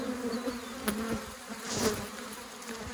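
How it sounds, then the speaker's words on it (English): A steady, close buzzing of many honey bees droning continuously around an open hive during spring beekeeping, with occasional louder passes, bees hitting gloves, and faint rustling underneath. "These bees are hitting my gloves."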